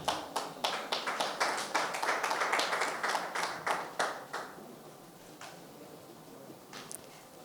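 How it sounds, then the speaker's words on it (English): A dense round of applause from an audience honours Makinde Beatrice at the official launch of the TCERA application suite. The clapping starts loud, holds for about four seconds, then thins to a few scattered claps. "I'd like us to give a round of applause to"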